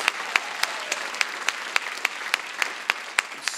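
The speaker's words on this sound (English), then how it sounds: "Big round of applause for you guys." Graduation audience applauding in a large hall, a steady wash of many hands clapping with sharp individual claps popping out, loud and continuous for several seconds.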